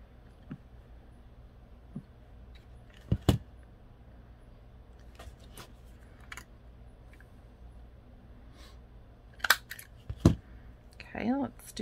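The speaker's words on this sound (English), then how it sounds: "I'm just going to put it in here and snip the corners." Scissors snip the corners of paper held with tweezers during a papercraft sewing project, a few sparse sharp clicks and snips over quiet room tone with occasional handling noise.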